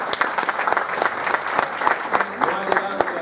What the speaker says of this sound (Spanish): Un fuerte aplauso para Pedro.